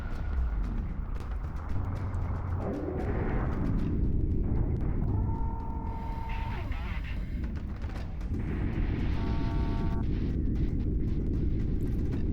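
Fury Missile strikes exploding during a space dogfight in House of the Dying Sun, with heavy rumbling blasts layered over steady engine roar and electronic weapon tones, continuous and loud throughout.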